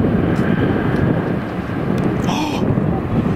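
Roaring Boeing 747 landing in gusty wind, heavy wind buffeting the microphone, loud and continuous, with a brief faint voice in the background.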